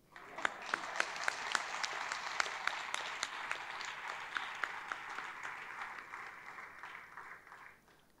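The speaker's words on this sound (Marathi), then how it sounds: "टाळ्या वाजवल्यात ना" An audience at a felicitation ceremony claps steadily for several seconds, dense applause with a few sharp individual claps standing out, slowly thinning toward the end.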